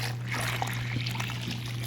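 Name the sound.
hot tap water running into a measuring cup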